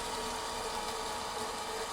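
The electric motor of a 1973 Komunaras 2M12 drill press runs very quietly, giving a faint, steady hum with a soft tone throughout and no talking.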